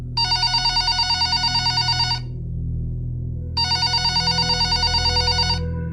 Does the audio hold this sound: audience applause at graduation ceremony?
no